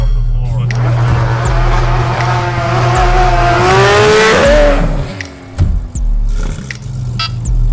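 A Shelby GT350 accelerates at full throttle, its engine note climbing loudly and steadily through the revs before a shift and a falling-off of power, close and dominant, with no speech.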